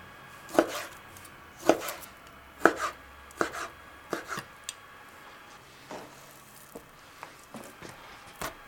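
A knife chops beef tenderloin into stir-fry strips on a cutting board, giving a series of sharp, irregular thunks spaced about a second apart, close and alone in a quiet room.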